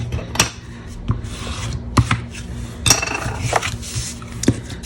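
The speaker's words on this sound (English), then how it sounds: "actually I needed to burnish this way" Paper is burnished along the score lines of a fun-fold thank-you greeting card with a hand tool, giving short scraping rubs and a few sharp taps, close up and isolated.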